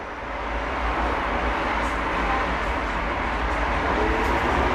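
A TW 6000 tram running between stops, a loud steady rumble and rolling hum of wheels on rails with low-frequency drone, continuous and close from inside the car.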